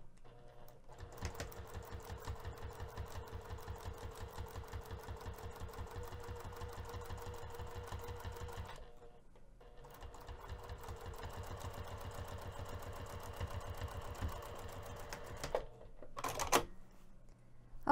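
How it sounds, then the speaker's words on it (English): Home sewing machine top stitching a crossbody bag at a 3 mm stitch length, a rapid, even mechanical chatter that runs in two long bursts with a brief pause between them, then a short final burst, close and alone. "I'm going to be lengthening my stitch length to 3 millimeters for this top stitching."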